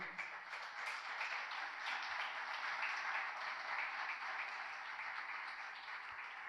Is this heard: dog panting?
no